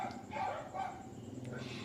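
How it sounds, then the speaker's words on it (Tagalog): A dog barks a couple of times at a distance, muffled and fairly faint behind a speaking voice in a room. "pagpasensya nyo na po yung aso"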